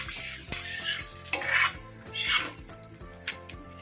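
A wheat parotta fries on a pan with ghee and oil, sizzling softly up close while it is stirred and turned with repeated light scraping and clinks.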